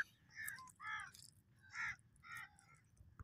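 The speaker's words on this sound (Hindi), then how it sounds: "कौओं के मज़े लगे हुए हैं बस, कौवे हमारा चारा ले लेके जा रहे" Crows caw at a fishing shore at Port Qasim, a string of harsh calls in uneven bursts of one to three caws, fairly close, with no talk.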